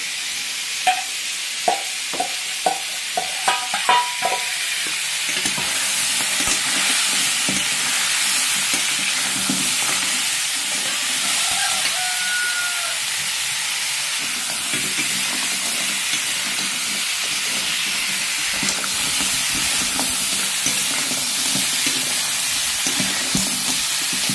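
Crab fries in a pan outdoors under a loud, sustained sizzle and hiss, with a run of sharp ladle knocks at the start and ongoing stirring scrapes after.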